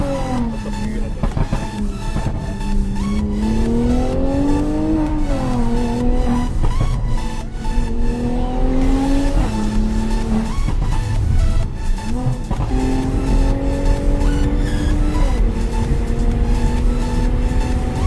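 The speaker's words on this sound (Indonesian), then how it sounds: "Pasti gue buka biar kedengaran suara knalpotnya." Exhaust of a Mercedes-Benz C43 AMG with Stage 2 ECU remap, driven in Bali: a continuous loud engine note rising and falling through gears, with brief tire squeal and a faint voice underneath.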